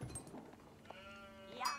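Sheep bleat in an Age of Empires 4 match, a brief harmonic cry near the end rising over quiet game ambience, with a fainter earlier bleat.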